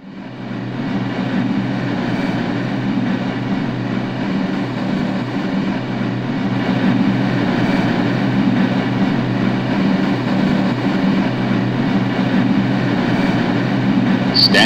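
A New York subway train runs with a loud, continuous low rumble and rattle from the wheels and car, steady throughout with no break and no talking.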